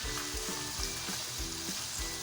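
Two medium grated onions hitting hot oil in a pan, a steady bright sizzle with rhythmic scraping as they are stirred, alone and close.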